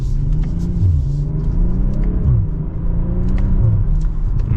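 A 2024 BMW M340i xDrive accelerates with a deep, rising engine rumble heard from inside the cabin, steady and loud, with gear changes briefly dipping the pitch before it climbs again.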